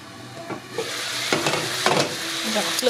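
Food fries in a pan on a home stove, giving a continuous, close sizzling hiss with a few louder crackles and bursts as it cooks.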